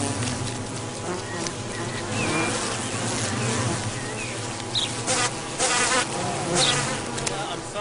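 Bees buzzing close by, a dense continuous drone with individual insects swelling louder as they pass near, no voices.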